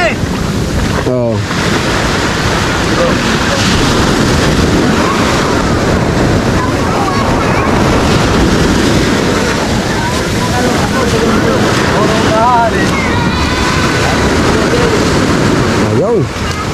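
Sea waves and gusting wind roll steadily around a boat at sea, a loud, continuous wash of water and wind rumble with voices talking over it throughout.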